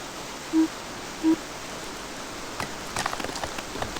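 Rain falls steadily outdoors at a dig site, a soft continuous patter with scattered drops spattering more sharply near the end, heard alone with no talk.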